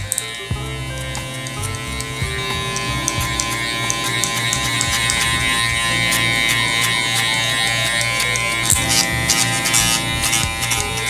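Electric hair clippers buzz steadily while cutting hair for a low taper, a close, loud, continuous motor hum with slight shifts in pitch as they move through the hair.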